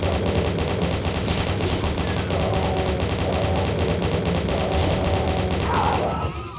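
Rapid chaingun fire in the Doom map Scythe Map 14, a steady, dense stream of repeated shots aimed at a Hell Knight, loud and continuous with game sounds mixed in, tapering off at the end.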